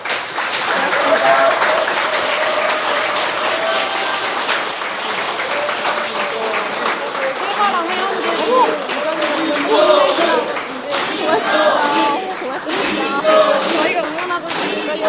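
Sustained audience applause fills a lecture hall during a progressive political talk by a former party leader, steady and dense throughout with voices mixed in under the clapping.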